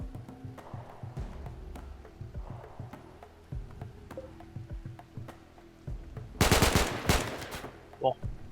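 Gunfire in the RimWorld video game as a sniper fires on colonists: sharp, sporadic shots over a low droning soundtrack, then a loud, dense burst of rapid fire near the end.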